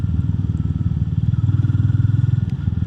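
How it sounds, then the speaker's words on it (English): A Royal Enfield Meteor 350 motorcycle with a 350cc engine gives a deep, steady, thumping exhaust note at close range, with rapid regular pulses holding an even idle-like rhythm throughout. "And I really like the exhaust note."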